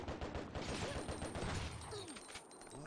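Rapid gunfire in the survival horror game Biohazard Outbreak, a dense run of repeated shots over about three seconds, faint and distant-sounding with some mixed game noise.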